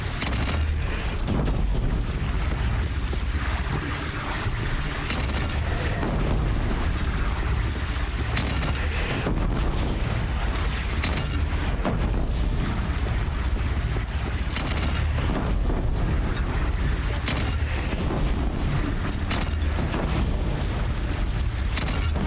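Cannon fire booms again and again in the Horizon Zero Dawn video game, heavy blasts layered in a dense, continuous barrage of explosions and rumbling.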